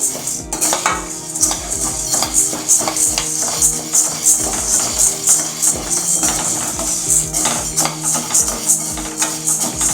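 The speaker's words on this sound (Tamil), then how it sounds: "இப்போ நம்ம உளுந்தை வந்து வறுத்துக்கலாம்" Urad dal dry roasting in a pan for idli and dosa podi, with steady scraping and clattering of a spoon against the metal pan in a quick, repeated rhythm, close and fairly loud throughout with no talking.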